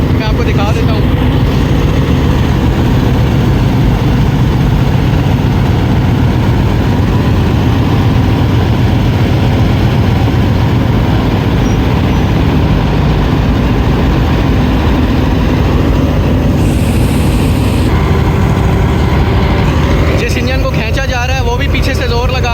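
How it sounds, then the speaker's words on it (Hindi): A locomotive strains to drag a derailed train on a main line near Attock city bypass, its engine roaring heavily and continuously at close range with a grinding, rumbling texture and wheelslip, loud throughout. "इसको खींचा जा रहा है और व्हील स्लिप हो रहे हैं"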